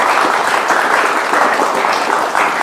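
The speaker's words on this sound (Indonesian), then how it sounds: "Tepuk tangan teman-teman buat BHS." Dense, continuous audience applause fills a TV studio, loud and close, a steady wash of many hands clapping throughout.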